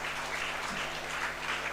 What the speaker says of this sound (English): Big round of applause to both the resource persons who kept us engaging.